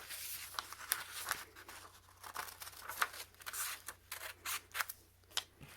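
Scissors cutting out a printed paper piecing pattern for a quilt block: quiet, close, uneven snips and paper rustles in an irregular rhythm, with no talking.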